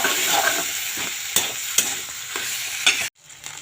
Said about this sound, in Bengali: এই যে এটা ভাজা ভাজা করে নিলাম